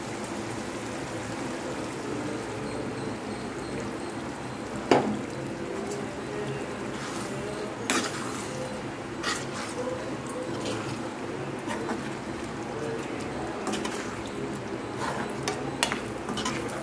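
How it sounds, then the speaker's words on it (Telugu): Mashed gongura leaves being stirred into a thickened curry in a pan, soft wet squelching and stirring with occasional sharp clinks of a spoon against the pan over a low background hum. "ఇప్పుడు మనం మెదిపి పక్కన పెట్టుకున్న గోంగూరని అందులో వేసి కలుపుకోవాలి"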